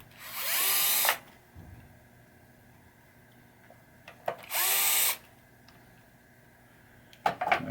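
Power drill backing screws out of a 1981 Williams Solar Fire pinball playfield, two short whirring bursts close up with small clicks and taps between and after them.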